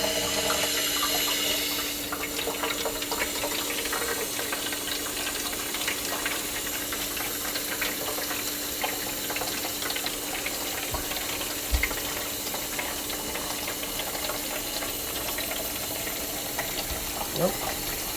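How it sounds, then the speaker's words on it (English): Tap water pours steadily into an aquarium, filling it about three-quarters full for a volcano project, a broad continuous hiss and splash with faint voices in the background. "fill our aquarium with 3/4 of the way. With water, right?"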